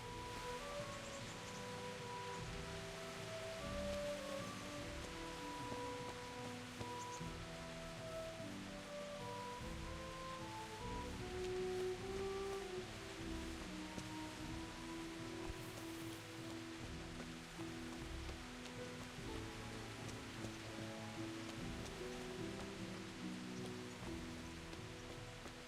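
Steady rain patters continuously in a video game world, a dense, even hiss of drops on surfaces lasting throughout with faint musical tones woven beneath and no voices.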